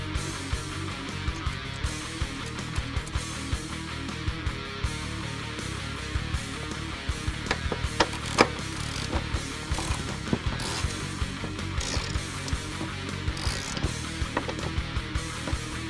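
Ratchet wrench loosening the factory nuts on a 2011-2018 Mustang transmission mount, a steady run of quick metallic clicks in repeated bursts, close and fairly quiet against a faint shop background.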